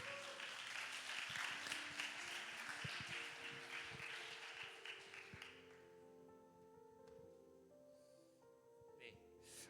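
Church congregation at a Sunday youth worship service clapping loudly for about five seconds, then the applause dies away into a quiet room with faint tapping.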